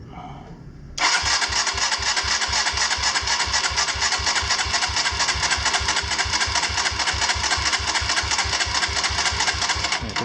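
A Kawasaki KLX170 dirt bike engine with a big bore top end cranks over during a compression test, a loud, close, rapid rhythmic chugging that starts abruptly after a second and continues steadily without firing.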